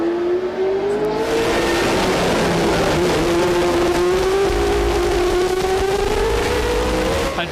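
Formula 1 cars roar past at the 1981 San Marino Grand Prix, including the old McLaren M29, a loud sustained engine whine rising and falling in pitch as cars race by, with faint commentary beneath.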